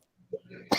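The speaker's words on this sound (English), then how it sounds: "When you got senior citizens coughing like that" A short cough, close and alone after a brief quiet stretch, with one burst ending the clip and a fainter throaty sound just before it.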